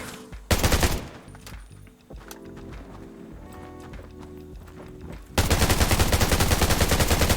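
Gunfire in the video game Undawn: rapid bursts rattle, with a quieter stretch of clattering and scattered shots between, ending in sustained loud automatic fire.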